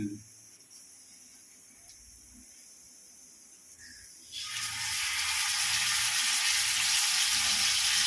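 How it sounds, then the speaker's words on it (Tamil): Fish frying in oil outdoors, with quiet crackle at first, then a loud, steady hissing sizzle that swells up about halfway through and holds to the end. "எண்ணெய் ஊற்றுறோம்பா எந்த ரெண்டு மீன் இருக்குது இதை வறுத்தரலாம்"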